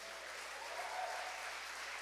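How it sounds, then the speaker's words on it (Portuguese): A church congregation applauds during a Portuguese-language sermon: dense, steady clapping that fills the whole moment evenly, with no voices standing out. "Você pode aplaudir ao Senhor por isso?"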